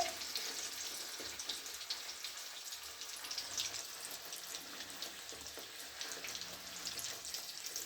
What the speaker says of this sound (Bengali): দেখো এবার মা ভাজছে কি সুন্দর করে